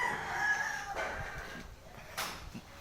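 A rooster crows once in a short, clear call at moderate distance, with a few softer clucks after and no voices.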